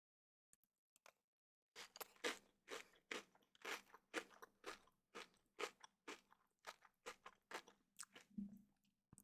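Loud, close crunchy chewing, about a dozen rhythmic crunching bites after a brief quiet pause, each chew sharp and crackly with no talking.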